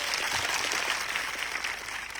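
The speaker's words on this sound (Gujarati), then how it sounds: "આજે આ મંચ પરથી એમના માટે જોરદાર તાળીઓ પાડી લો." A crowd at an outdoor political rally in Aravalli and Sabarkantha claps steadily for a couple of seconds, a dense, even patter of many hands heard from some distance.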